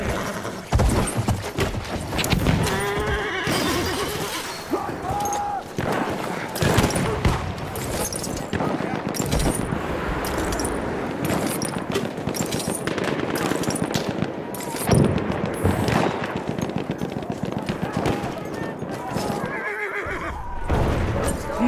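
A horse in the video game Battlefield 1 neighs and gallops with thudding hooves, surrounded by bursts of machine-gun and rifle fire on a noisy battlefield, with voices calling out at times.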